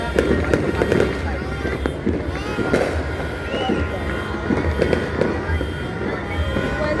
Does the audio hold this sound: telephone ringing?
no